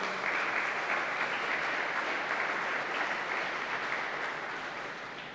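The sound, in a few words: applause for both sets of players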